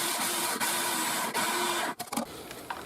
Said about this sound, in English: the first grind I'm going to do is going to be into a pretty fine powder